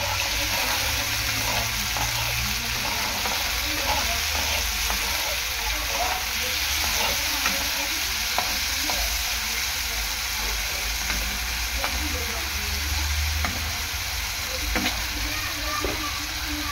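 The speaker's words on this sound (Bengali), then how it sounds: "লবণ দিয়ে আলুটাকে ভালো করে ভেজে নেব।" Potatoes frying in a pan with salt and a dried chilli, a loud, continuous close sizzle with faint stirring clicks throughout and occasional quiet speech underneath.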